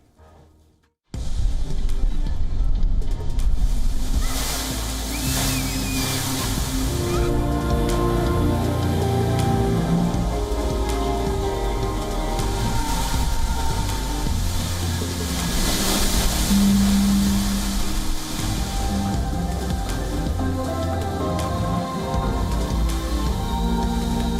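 A surreal waterfall pours in a broad, steady roar of falling water, loud and continuous throughout with no voices over it.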